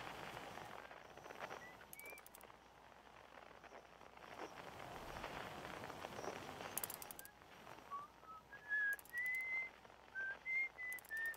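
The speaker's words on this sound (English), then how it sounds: "someone's just whistling" Someone whistles within the video game Outer Wilds, a faint, distant melody of short rising and falling notes that arrives in scattered phrases over a low ambient hiss, growing more frequent toward the end.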